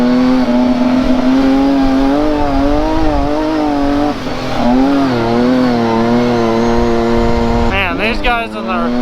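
UTV engine at a gate launch, revving hard and steady with a rising and falling whine, a louder surge as it kicks off and roars away near the end, with speech present.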